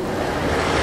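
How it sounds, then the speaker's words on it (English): An erupting geyser in Iceland sends up a loud, dense, continuous rush of water and steam, like roaring surf, filling the brief moment with no voices. "sometimes as dramatic geysers like this"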